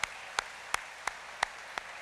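Sparse audience clapping at the Choctaw Nation State of the Nation gathering: six sharp, evenly spaced claps, faint and distant, with no voices over them.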